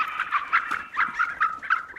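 Repeated nasal calls from a harlequin duck in the hunting game theHunter: Call of the Wild, coming as a quick run of short honking notes, fairly close and clear, with no talking over them.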